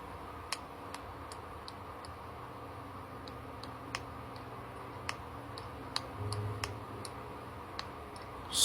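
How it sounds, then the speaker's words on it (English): Fast, light clicks from a very small computer keyboard tapped in uneven bursts, close and fairly quiet over a low steady background hum. "I apologize for being so slow at typing."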